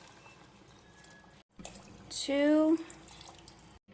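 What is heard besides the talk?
water being poured into a pot of rice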